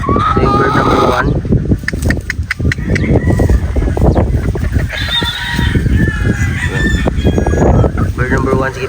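Several gamefowl roosters, including a Boston Black, crow loudly and repeatedly close by, joined by clucking and other poultry noise, with some faint talk in the background.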